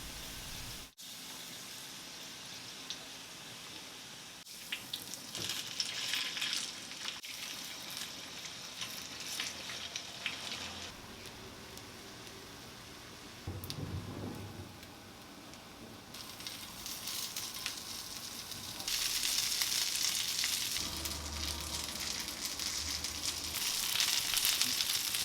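Potato pancake batter pan-frying, a soft steady sizzle that swells louder in patches, with occasional clinks and shifts of the pan.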